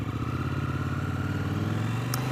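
A motorcycle with a slightly worn clutch after 42,000 miles pulls away from a traffic light, its engine droning steadily and close with a rising pitch as it accelerates.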